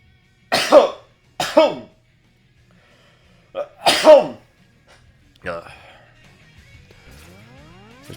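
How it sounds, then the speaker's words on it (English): Three sharp, loud sneezes burst out close by with pauses between them, followed by a quieter cough-like sound and some faint electronic tones. "I gotta sneeze."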